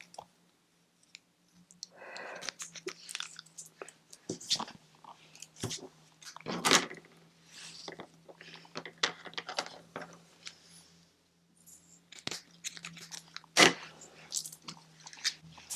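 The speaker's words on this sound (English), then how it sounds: "So I'm going to cut my pieces a little bit longer" Scissors snip through paper pieces for a recycled Christmas card, giving crisp close clicks and crunchy cuts in uneven bursts over a faint steady hum.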